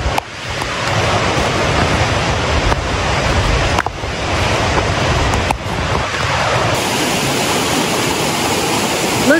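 A rushing stream at a rocky trail crossing pours in a loud, continuous, close roar of churning water, with occasional bumps and wind buffeting on the microphone.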